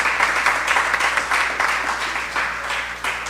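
Crowd applause at a political community meeting of the PNM at the Lambeau Multi-Purpose Facility in Tobago, a dense, steady roar of many hands clapping with surging swells, loud and continuous with no talking.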